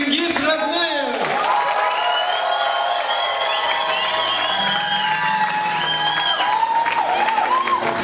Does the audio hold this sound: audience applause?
yes